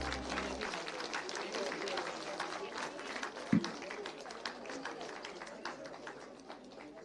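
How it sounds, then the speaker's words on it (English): Applause from an audience at a live GCML 3 event, a steady wash of clapping that carries on for several seconds with one brief low thump partway through. "A huge round of applause."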